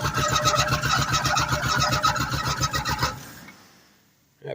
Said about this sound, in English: That power steering pump belt's loose and flopping.